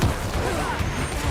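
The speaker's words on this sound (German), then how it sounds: "Explosion." An explosion in the action role-playing game Diablo IV sounds as a dense burst of loud, noisy rumble and crackle that lasts about a second without easing.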